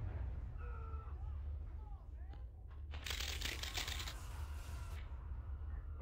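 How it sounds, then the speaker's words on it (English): Typing on a computer keyboard held right next to a microphone, a fast, loud burst of clacking keys in the middle of the clip, with a voice heard before it. "I'm gonna put my mic right next to my keyboard."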